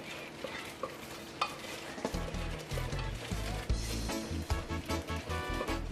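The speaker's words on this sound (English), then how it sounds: "Scrape this pan, get it all we can out." Spoon scraping sauce from a pan for ham and coleslaw sliders, a series of close scrapes and knocks over a low steady hum, moderately loud, with no talking.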